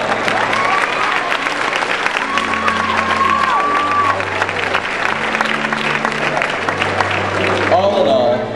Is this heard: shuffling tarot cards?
no